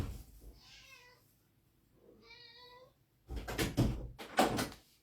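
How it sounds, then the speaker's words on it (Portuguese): A pet cat meows twice, each a drawn-out tonal cry separated by a pause, followed by the clatter and thumps of a door being opened nearby, all in a quiet home. "deixa eu abrir a porta aqui para minha gata"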